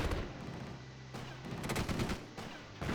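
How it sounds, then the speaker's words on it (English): An artillery battery fires in a WW2 real-time strategy battle at Kursk, heavy booms and crackling gunfire rolling together in a dense, continuous barrage with abrupt bursts, moderately loud, no talking. "why did it take the artillery battery so long to fire?"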